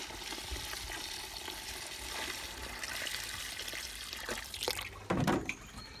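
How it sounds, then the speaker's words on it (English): Steady rushing of water pouring into a bucket about half full of material on an allotment, continuous and close, with a few louder splashy gurgles near the end as it fills to the top. "fill that up with water"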